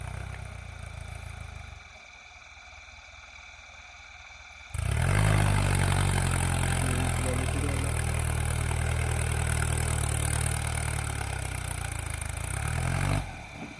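A tractor hauling a sugarcane load for a sugar mill idles in a muddy, waterlogged field. Its engine starts up partway through, then holds a loud, steady, close rumble before cutting off near the end.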